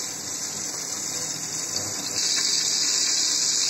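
Cumin seeds hitting hot oil in a pan for chana matar ghugni, a steady hissing sizzle that grows a little louder partway through and carries on evenly, close up.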